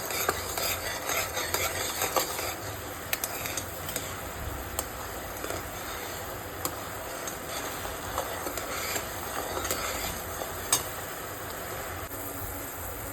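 Ghee-laced jaggery syrup boiling in a pan for puffed rice laddus is stirred steadily, a continuous bubbling hiss with frequent light scrapes and clinks of the spoon against the metal, close and even throughout.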